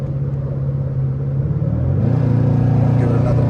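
Engine of a 2014 Dodge Charger R/T with custom mods revving and accelerating from inside the car, a deep steady rumble that rises in pitch and swells louder toward the end, with a voice talking over it.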